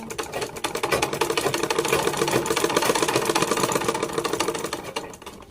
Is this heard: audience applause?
no